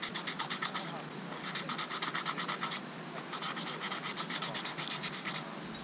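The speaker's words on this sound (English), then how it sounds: "I will use my sandpaper. Just take some fine sandpaper" Fine sandpaper rubbed over a wooden kuksa cup, a close, rhythmic scratching in fast back-and-forth strokes with a brief pause partway through, and a voice talking lightly underneath.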